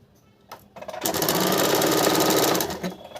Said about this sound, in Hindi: अभी पट्टी को इस प्रकार से उल्टे के तरफ रख के इसको 1/2 इंच पे सिलाई कर लेंगे।